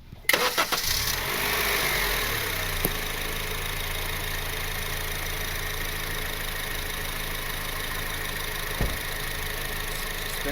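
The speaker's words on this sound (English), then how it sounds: "Watch the turbo spool" Honda Civic R18 engine fitted with an eBay turbo cranks and catches, then settles into a steady idle with a faint turbo whine, close up and continuous after the start.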